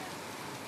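Steady rain falls during a family trip to Dandeli, a dense, even hiss that fills the whole moment with no distinct drops or voices.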